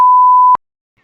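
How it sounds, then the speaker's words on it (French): A single loud censorship beep, a pure steady tone lasting about half a second that cuts off abruptly into silence. "Je vais biper, je vais biper."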